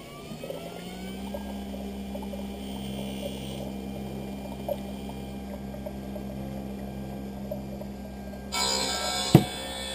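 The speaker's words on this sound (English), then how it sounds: "this is going to drop down onto the cutting wheel" A lens edger's cutting wheel grinds a Ray-Ban Wayfarer lens with anti-glare coating, a steady machine hum droning throughout, then a brief louder burst and sharp click near the end.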